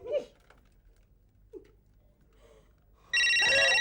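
After a few seconds of near silence with faint small knocks, a mobile phone abruptly starts ringing with a loud, bright electronic ringtone close by.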